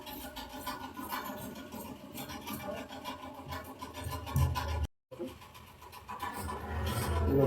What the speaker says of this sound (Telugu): మనం ఇది కట్టి ఒరిజినల్ క్లాత్ కట్ చేసుకోవడమే.